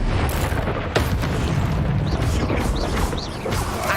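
Incendio fire spell cast in the Hogwarts Legacy video game, a continuous roaring burst of flame with a sharp pop near the start, loud and sustained amid game effects and music.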